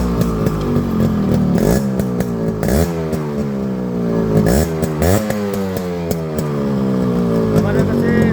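A Yamaha RX 100 two-stroke motorcycle engine running close by, its blipped throttle rising and falling in repeated sharp revs over a buzzing idle.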